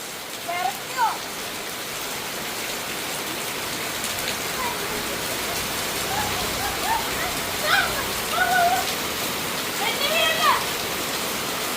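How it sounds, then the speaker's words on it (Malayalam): Steady rain hisses down on surfaces, a constant close wash of noise, while scattered voices call out now and then over it. "മഴ കൂടുന്നു"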